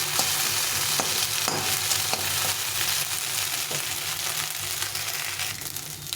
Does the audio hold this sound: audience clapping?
no